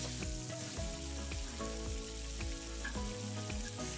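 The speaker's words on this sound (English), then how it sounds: "Now I'm gonna brown this in batches. And that is the sizzle that I want to hear." Meat browns in batches in a hot pot for stew, giving a steady, busy sizzle with scattered crackles and light stirring sounds, close and continuous without speech.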